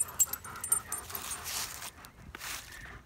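A dog pants rapidly and close by, a quick breathy rhythm with faint whimpers, outdoors while firewood is being gathered.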